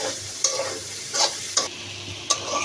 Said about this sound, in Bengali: এই যে দেখেন সবজিগুলো সব মেশানো হয়ে গেছে